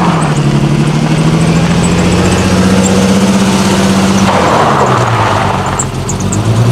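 A 1972 Mercedes W116, run after twenty years stored in a garage, idles with a loud, steady low engine drone and a slight shift in tone partway through, with no talk over it.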